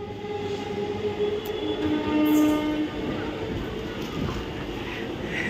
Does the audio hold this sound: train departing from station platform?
yes